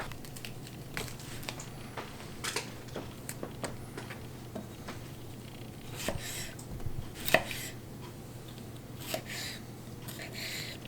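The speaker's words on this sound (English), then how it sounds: "and then just cut them up this way. I like them about that size," Potatoes are sliced into bite-size pieces on a cutting board with a knife, a series of sharp, irregular chopping taps close by, some quick and clustered, others spaced out, over a low steady hum.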